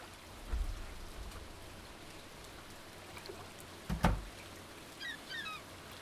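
Rain falls in the Stardew Valley video game near the ocean, a soft steady patter with a deep rumbling thump midway and a few faint chirps near the end.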